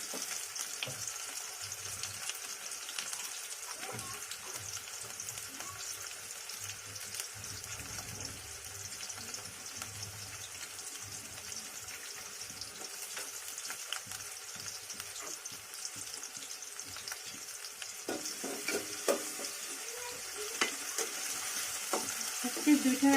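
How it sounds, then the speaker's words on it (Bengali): Onions and green chillies frying in a pan give a soft, steady sizzle throughout, close by but fairly quiet, with faint clinks and a slightly louder burst of crackling near the end. "আর এদিকে আমি পেঁয়াজটা দিয়ে দিলাম কয়েকটা কাঁচা মরিচ দিয়ে দিলাম"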